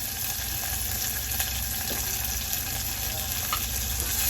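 Onions, green chillies and curry leaves fry in hot oil with cashews for jeera rice, a steady low sizzle with faint stirring clinks, continuous and moderately quiet with no voices.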